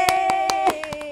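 A small group clapping after a song, with about eight distinct sharp claps at an uneven rhythm over a sustained tonal hum, close and brief.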